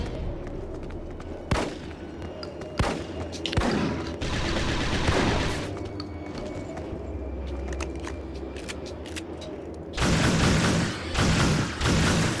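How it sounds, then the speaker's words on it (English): Shotgun fire in the PSP shooter Resistance: Retribution comes as several loud, booming blasts with a sustained burst of gunfire in between, with no talking over it. "Probably use a shotgun for this part."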